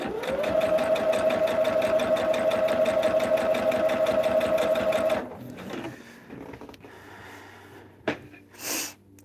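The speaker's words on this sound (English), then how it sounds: "you just sew down that line" A sewing machine stitches quilt blocks for a diagonal stripe quilt, running close and loud in a steady rapid rhythm for about five seconds before stopping, followed by quiet fabric handling, a sharp click and a brief rustle.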